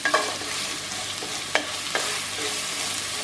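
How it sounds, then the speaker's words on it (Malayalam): Chopped onions sizzle as they are stirred in a hot pan for shark pickle, with a steady frying hiss broken by a few sharp scrapes of the spoon against the pan. "അതിന് ശേഷം ഒന്ന് ഇളക്കി അതിലേക്ക് സബോള, ഇനി ഫ്ലെയിം കൂട്ടിയിടാം."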